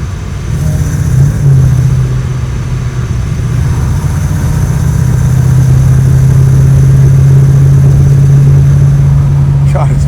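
A supercharged 1964 Pontiac Bonneville travels over a rough road, its engine holding a loud, steady low drone for the whole stretch with no break in the rumble.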